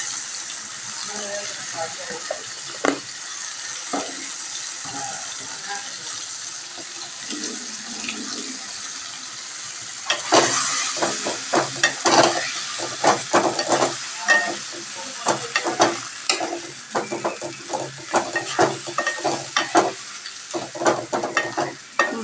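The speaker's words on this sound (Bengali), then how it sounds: "ভালো করে এটা ফ্রাই করতে দিয়েছি এটা ভালো করে ফ্রাই হোক" Food frying with chili powder in a home kitchen pan gives a constant sizzle, joined midway by louder clattering stirring and scraping strokes in quick irregular bursts; a voice is heard faintly at times.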